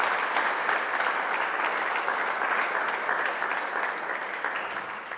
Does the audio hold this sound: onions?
no